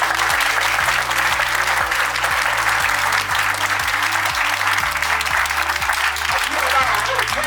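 A large audience at a motivational speech in Lonavala claps loudly and continuously, dense and unbroken throughout, over a low rhythmic musical backing.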